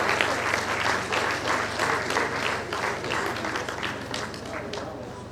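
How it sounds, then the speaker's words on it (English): A dense, steady ovation of clapping comes from a symposium audience at a career fair. It sounds continuous and full throughout, with some crowd noise mixed in. "Please, can we give her a clapping ovation as we proceed to the front?"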